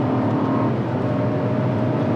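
A BMW ActiveHybrid with a 4.4 V8 biturbo engine cruises at highway speed, heard from inside as a steady, dense roar of engine, tire and wind noise with no talking.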